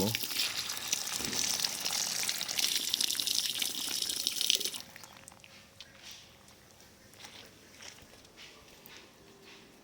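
Fresh leaves rinsed under a running kitchen tap, a loud steady splash of water for the first half that drops off to quieter trickles and handling sounds.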